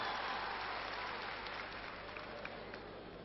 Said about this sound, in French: Je laisse entendre les acclamations